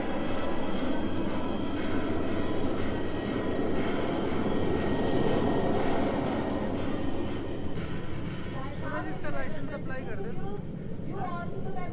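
A MiG-27 fighter jet flies from Jodhpur airbase on its final sortie, a loud continuous roaring engine drone that holds steady throughout while a voice speaks over it.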